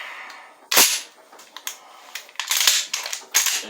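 A Hatfield 12 gauge shotgun's action is pulled back and locked open, giving a sharp metallic snap followed by several smaller clicks and rattles of the mechanism, close and fairly loud with no talking.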